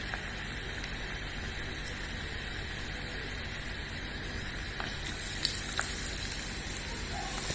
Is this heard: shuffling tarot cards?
no